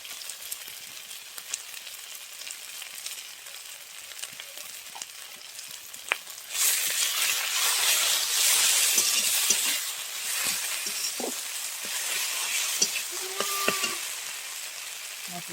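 Spice paste of dried red chilli and turmeric sizzles and fries steadily in a pan for a jhinuk (mussel) curry, flaring louder midway as more is added, with occasional stirring scrapes and no talk.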